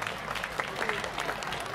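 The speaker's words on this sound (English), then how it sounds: "big round of applause to Team China." A cosplay event crowd applauds Team China at Asia Cosplay Meet SG 2014, with dense, steady clapping from a large audience heard at a moderate distance throughout.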